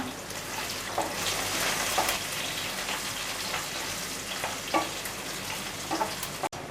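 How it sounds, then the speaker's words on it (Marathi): Green chili, ginger and garlic sautéing in a pan give a steady, dense sizzle with occasional louder stirring scrapes, close and continuous with no talking. "यामध्ये आपण हिरवी मिरची घालूया आलं त्यानंतर लसूण आता आपण परतून घेऊया"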